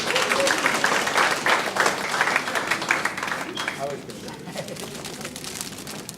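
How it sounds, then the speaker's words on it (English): An audience at an awards event gives a teacher a round of applause, a dense burst of clapping that fades over a few seconds while voices carry on underneath. "So let's give her a big round of applause."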